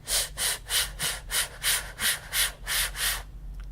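A quick series of about ten short, sharp inhaled sips during a voice-lesson breathing exercise, evenly spaced and close, followed by near silence.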